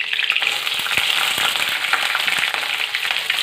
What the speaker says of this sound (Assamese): এতিয়া ইয়াতে পিঁয়াজখিনি দি দিম।